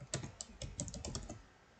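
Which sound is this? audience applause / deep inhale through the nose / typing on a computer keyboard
typing on a computer keyboard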